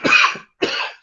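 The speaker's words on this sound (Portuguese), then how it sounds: "Perdão, estou com uma tosse." Two harsh coughs from a person, one right after the other with a brief pause, close and loud with no other sound.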